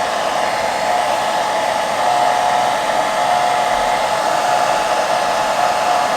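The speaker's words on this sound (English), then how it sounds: "just use a hairdryer. Just put it on the hottest and just do it like this." A hair dryer on its hottest setting blows steadily at close range, a continuous loud whooshing hum with no pauses and no voices.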